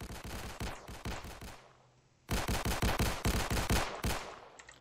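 Automatic gunfire rattles in rapid bursts during a riot at a sheriff's office in a video game, with a short pause between two long, loud volleys.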